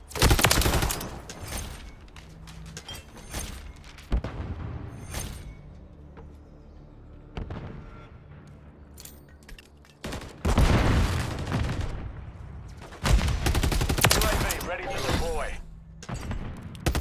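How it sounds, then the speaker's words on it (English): Call of Duty MW3 multiplayer gunfire: loud, close bursts of rapid automatic shots in clusters, separated by quieter stretches, with players talking over the action. "Mate, I was shooting at him."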